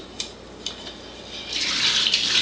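A KYK water ionizer begins running alkaline water: a few light clicks, then a steady hissing rush of flowing water that starts partway through and continues to the end, close and moderately loud.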